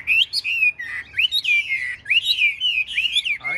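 A hwamei songbird sings a continuous, varied song of bright whistled phrases with rising and falling slurs, close and loud, with no talk over it.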